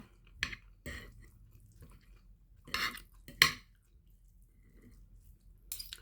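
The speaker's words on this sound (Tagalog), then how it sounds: "Maingay yung kutsara." A few sharp metallic clinks of a spoon against dishes, spaced irregularly, fairly close and with no talking.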